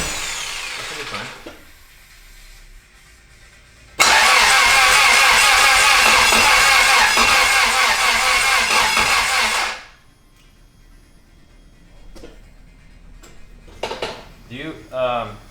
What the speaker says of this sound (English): Hey, did it always turn over that slow, or is the battery really low?